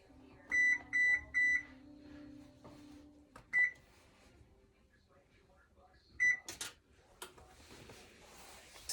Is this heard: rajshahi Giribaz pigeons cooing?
no